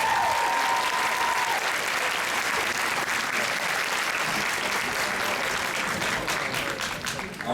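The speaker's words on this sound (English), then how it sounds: "Let's go ahead and round of applause." An audience at a D23 Expo panel on Disney parks art breaks into sustained, dense applause that fades slightly toward the end.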